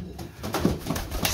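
Domestic pigeons, including a Kashmiri breed with squabs and eggs, cooing softly in a loft, with low repeated coos and faint rustling close by.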